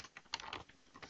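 Typing on a computer keyboard: a short run of light, quick keystroke clicks, close and fairly quiet, with no talking.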